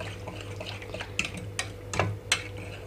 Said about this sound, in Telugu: స్పూన్తో కానీ విస్కర్తో కానీ కలుపుకోవాలి